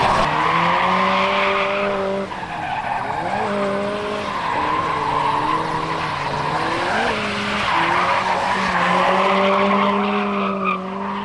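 An LS-swapped Mazda Miata is driven hard, its tires squealing and skidding loudly and continuously, the pitch wavering up and down as the car slides, close and with no talking.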